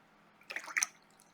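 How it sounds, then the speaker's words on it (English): Water added to a palette to rinse a watercolor brush gives a few soft, close drips and splashes bunched in under a second, quiet and alone. "just add some water and just go in a circular motion."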